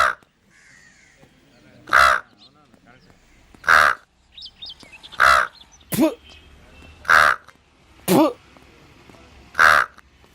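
A voice imitates a crow, giving seven loud, evenly spaced caws in a steady rhythm, with short quiet gaps and faint background sound between them.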